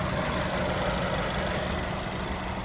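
A car engine runs at a steady idle close by, a constant even rumble and hiss with no audible revving in this short stretch.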